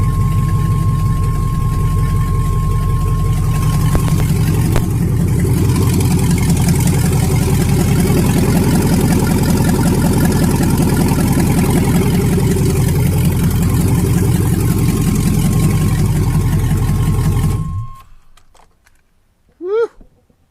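A 1999 GMC Yukon with a 5.3-litre V8 idles loudly and steadily right after its first start, with a deep, rough rumble and no mass airflow sensor connected. It runs for about eighteen seconds, then cuts off abruptly, leaving a short burst of noise.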